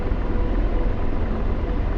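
A helicopter engine and rotor in a flight simulator video game give a steady, loud, dense rumble that drones on without a break, with no voices.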